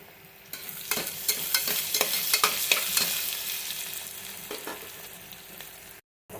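Chopped onions and a slit green chilli sauté in hot oil in a pan, a steady close sizzle broken by rhythmic scraping stirs, with a brief dropout near the end.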